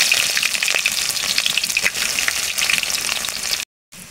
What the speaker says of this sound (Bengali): এখন পেঁয়াজ কুচি দিয়ে দেব।